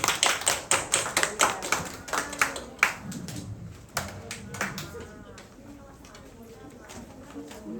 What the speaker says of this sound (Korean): 하나님께 영광의 박수 드릴까요?